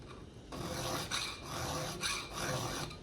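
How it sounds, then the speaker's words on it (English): A chainsaw chain gets its first sharpening with a hand file. Four or five steady, close rasping strokes follow one another with short pauses between them, and no one speaks. "This is the first sharpening on this chainsaw blade"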